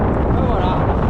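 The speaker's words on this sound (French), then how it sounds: "il y a beaucoup de vent" Strong wind buffets the microphone on a Welsh cliff top, a loud, continuous low roar and rumble with no break through the whole short stretch.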